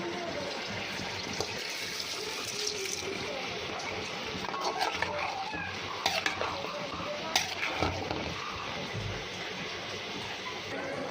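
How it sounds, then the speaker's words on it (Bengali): Ordinary rice added to a pot of boiled beef for khichuri and stirred, with scraping and clinking of a spoon against the pot over a wet simmering sizzle, fairly quiet and continuous. "এখন এখানে চাল দিব।"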